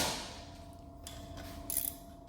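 A bolt being fitted back into a rear brake caliper: faint, quiet metallic clicks and a short scraping rattle near the end, close by, over a low hum.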